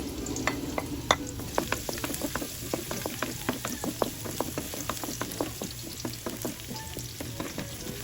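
Garlic frying in oil in a pan crackles and sizzles steadily while a spoon scrapes and ticks against the metal again and again throughout, close and moderately quiet, with no voices.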